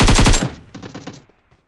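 Loud bursts of rapid automatic machine gun fire in a video game: a dense volley, then a shorter, quieter burst and a few trailing shots, with no voices.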